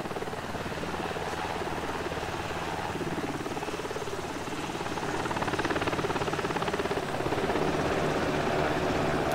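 A video game helicopter makes a steady, dense rotor drone that runs throughout and grows slightly louder in the second half, with no speech over it.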